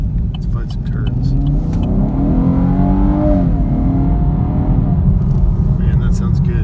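A 2017 Chevrolet Camaro RS with a V6 engine accelerates from inside the cabin, a loud, steady engine drone rising and falling in pitch beneath road and wind noise.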